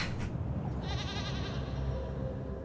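A goat bleats once, a quavering, nasal cry of about a second over a low background hum, fairly close and moderately loud.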